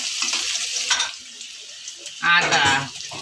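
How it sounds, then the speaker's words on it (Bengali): Chopped onions frying in oil in a pan with dried chillies, a steady close sizzle with a louder crackling surge near the end, under a voice talking. "পেঁয়াজটাকে হালকা করে একটু ভেজে নেব"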